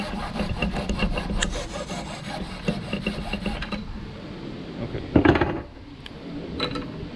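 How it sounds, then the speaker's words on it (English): A hacksaw cuts through a plastic pipe for a homemade moss pole, giving rapid, even back-and-forth rasping strokes that stop partway, followed by a few brief scrapes and knocks. "These things are just plastic. So I'm going to take a hacksaw."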